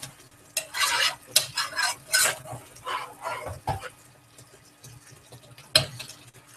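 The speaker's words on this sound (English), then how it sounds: "Let's make sure to give this another stir." Red curry with chicken and potatoes stirred in a pot: close, scraping spoon strokes in several uneven bursts, then a quieter stretch and one last sharp scrape, with no talking.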